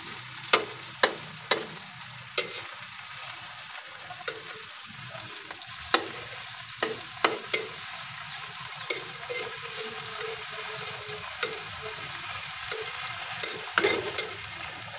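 Oil sizzles and crackles steadily in a frying pan heaped with cooking oil for an egg omelette, with sharp spits and pops breaking through the continuous hiss.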